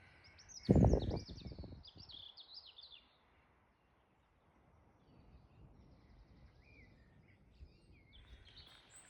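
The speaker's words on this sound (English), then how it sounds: "The bird song on the trail is absolutely beautiful." Birds sing on a mountain trail in Ireland, quick high chirps and warbling phrases that are clearest at the start, over a loud knock and soft outdoor rustle, then fainter calls drift in near the end.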